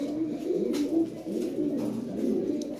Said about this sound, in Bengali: এখানে হোয়াইট লাহোরি আছে একজোড়া